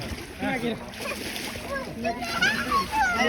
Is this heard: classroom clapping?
no